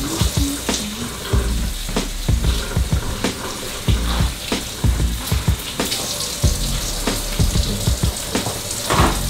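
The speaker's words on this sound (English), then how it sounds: "I'm gonna wash the vegetables off" Tap water runs into a kitchen sink while vegetables are rinsed for vegetarian spaghetti, a loud steady splash broken by irregular clunks and sloshes as the produce is handled close by.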